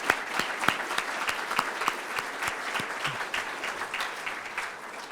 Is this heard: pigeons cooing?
no